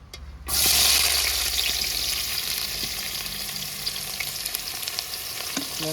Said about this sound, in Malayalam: എണ്ണ ചൂടായിട്ടുണ്ട് നമുക്ക് സവള ഇട്ട് കൊടുക്കാം